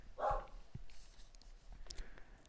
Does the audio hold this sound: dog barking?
yes